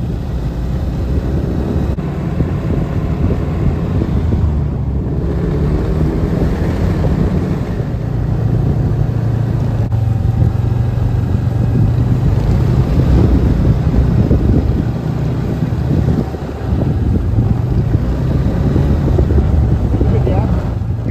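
Snowmobile riding in the Canadian Rockies, a steady engine drone mixed with rushing wind buffeting the microphone, continuous and close, with a person talking over it.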